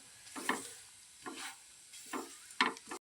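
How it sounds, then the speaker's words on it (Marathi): A carrot halwa-stuffed poli roasts on a griddle, and four brief scraping, shuffling strokes come as it is pressed and turned over a faint background hiss, quiet and close. "परत एकदा अजून पलटी मारायची आणि छान खमंग भाजून घ्यायचं."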